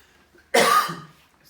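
A single short, sharp cough, close and fairly loud, in an otherwise quiet room.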